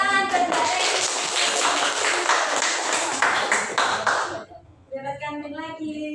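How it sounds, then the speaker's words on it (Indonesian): A classroom group claps for a presenter during a lesson on energy sources, several hands clapping for about four seconds before it stops and a voice begins talking. "Tepuk tangan buat Mbak Reni"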